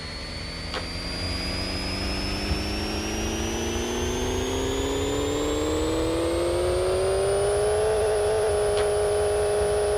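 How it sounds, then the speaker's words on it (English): A turbocharged K20 engine in a Civic Si on a dyno in Pixel Car Racer, revving steadily from low to high in one long, loud, rising whine before leveling off near the top. "we got to hit the dyno, see if our horsepower numbers are accurate here"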